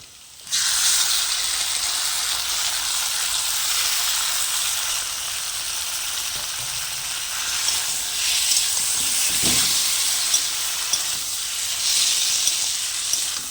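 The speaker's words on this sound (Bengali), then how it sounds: "এবার দিয়ে দেবো ছাড়িয়ে রাখা কচু" Peeled taro goes into hot spiced oil with a sudden loud burst of sizzling that settles into a steady, hissing fry with occasional stirring knocks.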